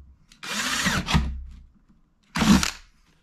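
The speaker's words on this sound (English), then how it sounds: "there's always a chance of plastic getting down inside once you drill the hole right" A power drill bores a hole into a plastic gas can in two loud bursts, the first longer with a brief pause partway through, then a short final burst, with silence between.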